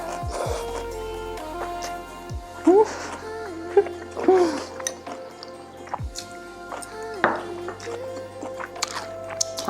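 Close, wet chewing and slurping of chicken bulgogi udon noodles with radish kimchi, with moist squishy bites and drips scattered through, plus a few sharper smacks, while background sounds hum on.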